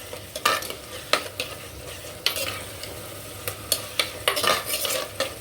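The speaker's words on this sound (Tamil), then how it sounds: "இதோ இஞ்சி பூண்டு பேஸ்ட் கொஞ்சமாக இது நல்லா வதங்கட்டும்" Ginger garlic paste sautéing in a pan for fish curry, a soft sizzle under frequent clattering spoon strokes against the pan, close and irregular, with no one speaking.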